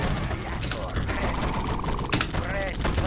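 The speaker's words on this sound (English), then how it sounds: "I'm shooting." Rapid rattling gunfire in a real-time strategy game with Soviet units, dense and continuous bursts layered with game sounds while a voice talks over it.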